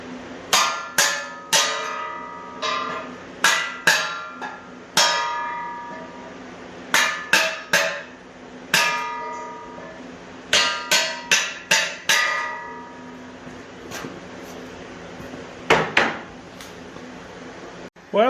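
Sharp metallic whacks on kindling in a homemade welded steel kindling splitter, struck in quick clusters of two to four blows with short pauses, loud and close.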